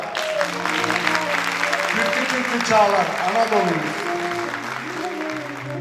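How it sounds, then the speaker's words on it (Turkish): Loud, sustained crowd applause for saz players at a Turkish folk music choir concert, steady clapping throughout while a voice recites over it. "Alkış tutun dostlar, saz çalanlara."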